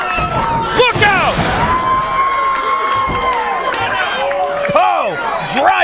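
A pro wrestling crowd roars and cheers at an Atlantic Pro Wrestling match as Demon Ortiz faces John Poe, with shouts rising in waves while excited commentators talk over the din.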